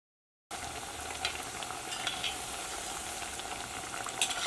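Spicy vada fries in hot oil over a high flame, giving a quiet, steady bubbling sizzle with scattered pops. It begins after a brief silence and carries on alone with no voices.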